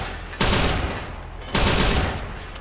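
Gunfire in the video game Watch Dogs: two loud, dense bursts of rapid shots, each sustained for about a second before tailing off, with no talking over them.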